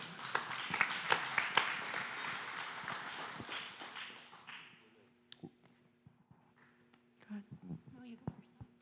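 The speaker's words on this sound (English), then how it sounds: "give yourselves a cheer and a hand" A church audience at a kids' month service claps and cheers, loud at first and fading over about five seconds, followed by quieter scattered sounds and a voice speaking.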